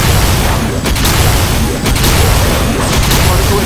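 Xenon's weapon fires repeatedly in MapleStory, loud dense blasts and booming bursts that hit in quick succession over a constant wall of game noise, with sharp impacts around each second.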